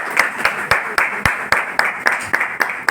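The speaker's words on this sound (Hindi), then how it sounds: "चलिए रंजीत भाई साहब के लिए जोरदार तालीम बजाते हैं" An audience claps together in a steady, even beat, roughly three crisp claps each second, sounding close and fairly loud, with no speaking over it.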